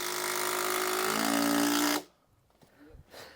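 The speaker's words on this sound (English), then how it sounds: "John's putting his last 250 screws in there" A power driver runs steadily for about two seconds, sinking screws into the timber base of a garden room, then cuts off, leaving quiet background with a few faint knocks.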